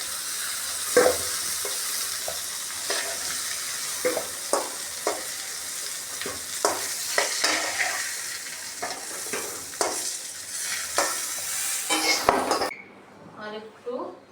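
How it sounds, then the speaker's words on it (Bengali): Pointed gourd fries in a pan with a constant sizzle while a spatula stirs and clinks against the metal in irregular bursts, the frying cutting off abruptly near the end as a voice talks. "পটলগুলো লাল লাল করে ভাজা হয়ে গেছে"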